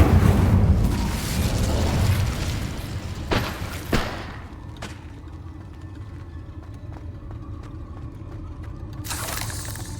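An Incendio fire spell is cast in the Hogwarts Legacy video game, a loud rumbling whoosh of flame with deep booming thumps that fades into a quieter crackling tail and a brief later burst.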